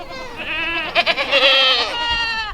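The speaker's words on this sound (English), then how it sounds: "let's go feed those pesky goats, because they're still hungry" Goats bleat repeatedly at close range, a run of loud, wavering, overlapping cries from several hungry animals waiting to be fed at a farm gate.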